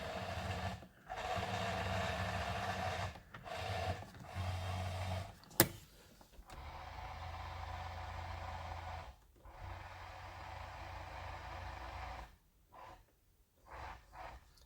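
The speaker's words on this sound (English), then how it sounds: "These ones seem to make a lot of noise for some reason. They might need a little grease in the motor things, but they work." Power side mirror motors on a 1999-2004 Ford Mustang with Cobra mirrors whir in several bursts of a few seconds each, with short pauses between them, fairly loud and close by.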